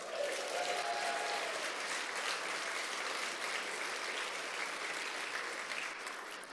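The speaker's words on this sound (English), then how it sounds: "A little round of applause for them." Audience applause at an evening church talk in Bristol, a steady wash of many hands clapping that holds evenly for several seconds and begins to thin out toward the end.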